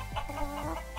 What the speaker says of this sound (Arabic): هذه دجاجة، صوتها نقنقة